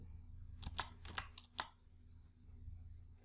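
Brief burst of several quick key presses on a computer keyboard, close and quiet, followed by near silence and faint room hum.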